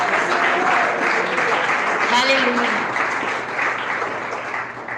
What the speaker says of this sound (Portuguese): Palmas bem fortes, exalta o glorifica o Rei Jesus.